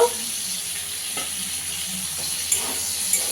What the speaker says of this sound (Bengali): পটলগুলো লাল ভেজে নিলে ভালো লাগে না